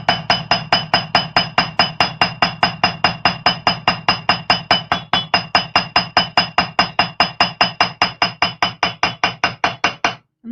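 A hammer strikes the edge of a metal pendant to bevel it, delivering a long run of evenly spaced, sharp metallic taps at a quick steady rhythm, close and alone with no talk.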